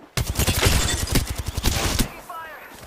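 Rapid automatic gunfire in a video game, a dense stream of loud close shots for about two seconds, then cut off abruptly, followed by fainter game sound effects.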